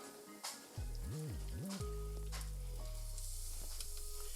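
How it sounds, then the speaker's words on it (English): Shrimp drop into a hot pan and sizzle loudly and steadily, a constant crackling hiss with a few clinks early on. "You want it to really sizzle when it hits that pan."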